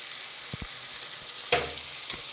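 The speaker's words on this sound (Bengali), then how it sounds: "ভালো করে নাড়াচাড়া করে মিশিয়ে নেব।" Chili powder, turmeric, salt and tomato paste frying in a pan for a chicken pasta dish, a continuous hissing sizzle broken by a few sharp scraping strokes of a spoon stirring the mixture, with no voices.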